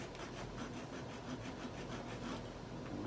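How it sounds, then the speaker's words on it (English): A small table saw fitted with a jeweler's blade cuts wood for a guitar bridge, giving a steady, close rasping buzz with a fast, regular texture that runs unbroken throughout. "The blade I have on my little table saw thing is a jeweler's blade."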